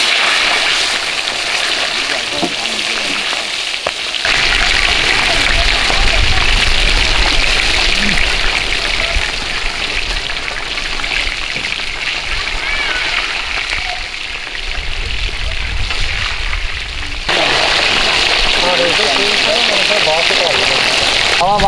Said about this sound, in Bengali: আমরা এই খাঁটি সরষের তেল দিয়ে মাছটা ভাজিয়ে নেবো।